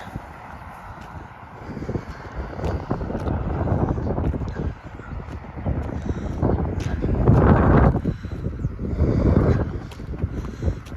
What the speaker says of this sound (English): But it is windy today, so there'll be a little chill in the air.